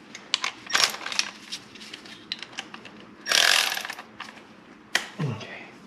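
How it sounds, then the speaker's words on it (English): A ratchet on a 6-inch extension with a swivel turns bolts during a valve cover gasket replacement on a 2009 Nissan Versa, producing close bursts of rapid clicking, some longer runs, and metallic clinks. "here's how I did a 6-inch extension with a swivel."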